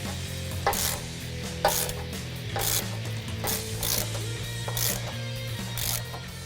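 A ratchet loosening 13mm bolts on the intercooler bracket of a 2011-2014 Ford F-150 3.5L EcoBoost, with repeated short bursts of pawl clicking, about eight, close and clear over a steady low hum.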